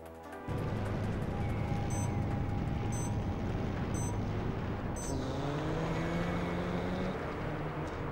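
Race car engines from the video game Hot Wheels World Race, a continuous loud high-pitched motor whine that never shifts gear, with shifting engine pitches, faint periodic beeps and a brief sweeping pass.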